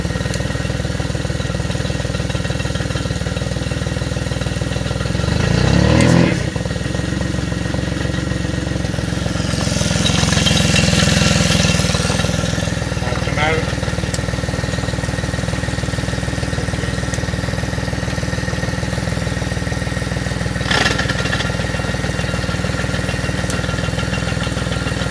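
A Yamaha 40 HP outboard motor runs in forward gear with a steady, loud mechanical drone. The level rises briefly around a couple of throttle changes, and there is no talking.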